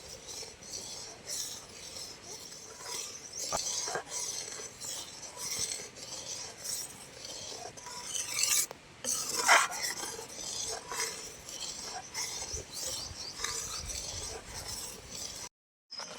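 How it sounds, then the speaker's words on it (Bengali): Raw mango jam mixture stirred in a pan with a spoon, steady scraping and clinking of utensil against metal, close and moderately quiet, no talk. "এবার খুব ভালো করে নেড়ে চেড়ে নেবো।"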